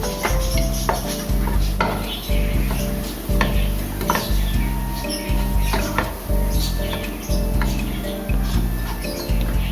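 A spatula or spoon stirs and scrapes paneer fried rice with soy sauce in a metal pan, giving steady rhythmic clinks and scrapes over a continuous sizzle, with no talking.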